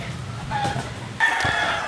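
Gamefowl roosters readied for cockfighting give short crowing and clucking calls close by, one brief call followed by a louder one, with faint farmyard noise around.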